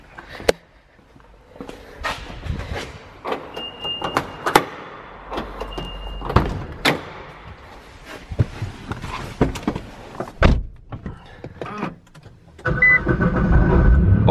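A Nissan GT-R at Auto Club Speedway is started, with door and interior clicks and clunks before the engine cranks and catches into a loud, steady idle near the end.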